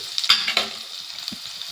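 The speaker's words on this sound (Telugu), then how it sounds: "అలాగే కరివేపాకు వేసేస్తున్నానండి. కొంచెం ఫ్రై అవ్వాలి." Curry leaves, ridge gourd pieces and onion fry in a pan, with a sharp crackle and sizzle as the leaves hit the oil, settling into a softer steady fry.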